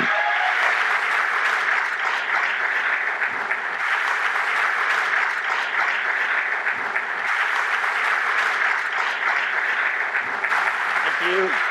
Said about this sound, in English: round of applause, Tim Schafer